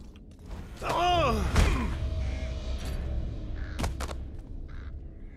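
A bird in the game Thief gives a harsh, close caw with a rising and falling pitch, followed by a thump and a few faint clicks over quiet ambience.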